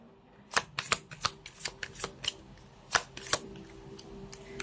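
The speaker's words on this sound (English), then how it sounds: "You saw me shuffle." A deck of tarot cards is shuffled by hand in a tarot reading, giving a string of crisp riffling snaps and soft slaps at an uneven pace, close and fairly quiet.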